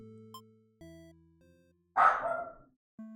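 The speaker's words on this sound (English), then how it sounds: "know she's barking" A dog barks indoors from another room in a house: a single muffled, rough bark over quiet, sustained electronic game music tones, with no voices.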